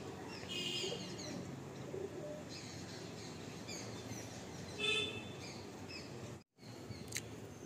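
Kalanka pigeons coo softly at a distance, with faint bird chirps over a quiet background hiss.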